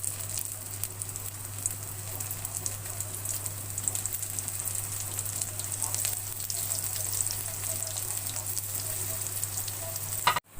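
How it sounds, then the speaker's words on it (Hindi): Chana dal kababs fry in hot oil with a dense, steady crackling sizzle that holds evenly throughout, close up and moderately loud, before cutting off abruptly at the end. "अब मैं ये फ्राई कर लूँगी और भी।"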